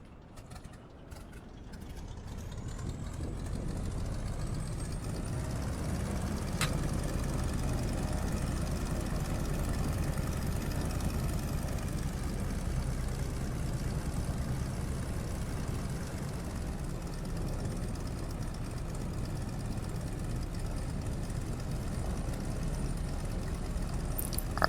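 A DC Designs Stearman biplane's radial engine rumbles steadily in Microsoft Flight Simulator while the aircraft taxis, a continuous low drone that stays loud and even throughout, with no voices over it.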